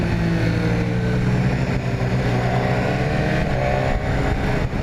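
A BMW S1000R motorcycle accelerates hard under a wide-open throttle, a loud continuous engine roar with rising pitch sweeping upward through the gears, close to the rider with wind noise.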